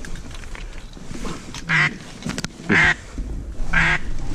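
Duck calls sound during a duck hunt, three loud, nasal quacking bursts spaced about a second apart over quieter background noise, with no talking.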